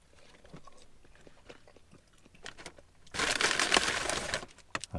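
Crunchy KFC chips being bitten and chewed close up, soft scattered crunches at first, then a loud dense burst of crinkling crunch from about three seconds on, with no talking.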